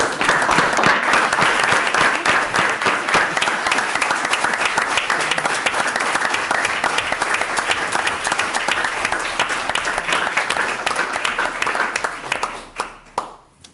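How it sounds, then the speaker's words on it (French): People at a municipal council meeting break into sustained, loud applause that holds steady for a long stretch, then thins out and fades near the end. "ces applaudissements-là"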